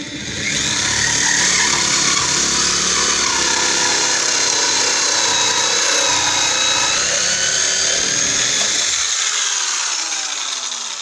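A power drill with a boring bit cuts steadily through a wooden door for a deadbolt lock, making a continuous high whine that runs for about nine seconds at close range before winding down.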